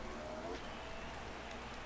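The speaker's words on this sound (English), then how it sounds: "Because it's raining hard." Steady hiss of heavy rain in a motorcycle racing game at Le Mans, a dense, even wash of noise that fills the whole stretch at low level with no voices over it.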